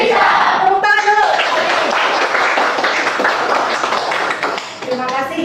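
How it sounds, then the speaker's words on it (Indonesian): Vocational high school students clapping hands in a classroom, a steady burst of many claps lasting several seconds, with voices speaking and calling out at the start and end. "Tepuk tangan dulu"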